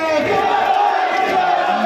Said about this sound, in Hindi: पीछे तमाम साथी हाथ खड़े करके नारा लगाए, इंडिया गठबंधन जिंदाबाद